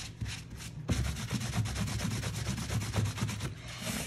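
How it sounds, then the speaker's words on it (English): A shop cloth buffs wax on a craft frame in close, continuous rubbing strokes, a soft brushing scrape that repeats steadily with no talking. "And now I'm going to start buffing this wax."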